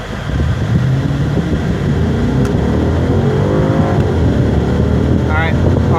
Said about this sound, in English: as soon as you take your foot off the brake, you need to put the pedal all the way to the floor.